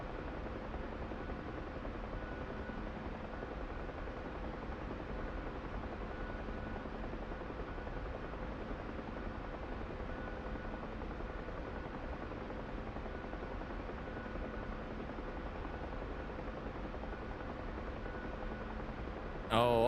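Steady, droning rotor and engine noise from an Mi-8 helicopter flying in a video game, continuous and even for the whole stretch with no breaks.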